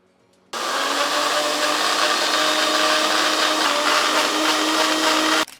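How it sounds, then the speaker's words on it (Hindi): A mixer grinder whirs into action after a short quiet start, blending spinach, a little parsley and milk in a steady, loud, continuous motor roar that cuts off abruptly at the end. "हमें एक मिक्सी के जार की जरूरत पड़ेगी और इसमें हम डालेंगे हैंडफुल ऑफ पालक, बहुत थोड़ा सा पार्सले, 1/4 कप ऑफ मिल्क"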